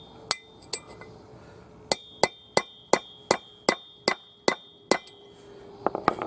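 A hammer strikes a chisel set against a wheel bearing race, ringing metallic taps in a steady run of about a dozen sharp, close blows at roughly even spacing, with no voices.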